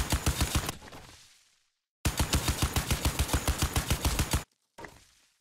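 Automatic gunfire in the video game WarFire comes in two rapid bursts of evenly spaced shots, the second longer, each trailing into a brief echo, followed by one short final shot, loud and with no talk.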